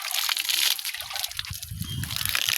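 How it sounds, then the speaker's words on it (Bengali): Water being drawn from a tank, with close sloshing and trickling, a brief splash and a gurgle of filling water, rising and falling over a few seconds. "আমি একটু পানি নিয়ে নিচ্ছি ট্যাঙ্কি থেকে"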